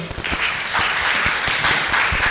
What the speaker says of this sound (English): Give applause for Dr. Chin.